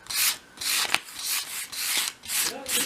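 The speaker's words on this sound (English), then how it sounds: "So I've just got a 500 grade piece of sandpaper here, and I'm just going to go along each side of the strip." Sandpaper of 500 grade rubbed back and forth along a thin wooden strip, giving six steady rasping strokes with brief pauses between them, close and fairly loud.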